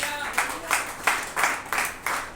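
A church congregation at a Sunday service claps in praise, with six broad, crisp claps in a steady rhythm sounding close and full.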